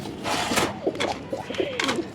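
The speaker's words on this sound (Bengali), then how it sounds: "এই যে নরের ডাকটা একটু দেখেন আপনারা এখন।" A male pigeon coos in repeated low, throaty bursts, close by, with a steady background hum.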